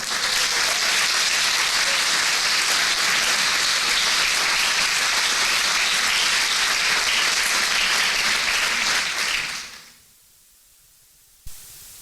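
Loud, sustained applause from a large church congregation, continuing steadily for several seconds before cutting off abruptly into near silence.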